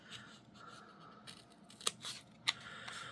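Scissors cutting paper while making small mini-book ephemera, a few quiet close snips and sharp crisp blade closures over faint rustling, no talk.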